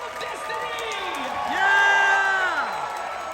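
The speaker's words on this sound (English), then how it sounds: "Cheer for the cast and filmmakers of Indiana Jones and the Dial of Destiny!" A large crowd cheers and whoops at the premiere of Indiana Jones and the Dial of Destiny, a continuous roar of voices with shrill shouts and whistles that swells louder midway and stays dense throughout.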